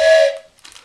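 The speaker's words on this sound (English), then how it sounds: "It's a train whistle." A short, bright toy train whistle tone blows loudly up close, then fades out, followed by faint rustling.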